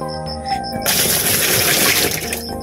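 Water is poured into the tub of an old Hanabishi single tub washing machine, a sudden loud splashing gush after a short quieter lead-in, running for about two seconds before tapering off.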